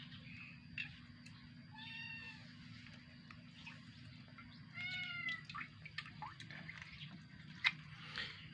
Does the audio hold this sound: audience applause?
no